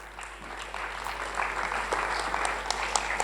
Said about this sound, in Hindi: तालियां बजती रहनी चाहिए कलाकारों के एक बेहतरीन अभिनय के लिए।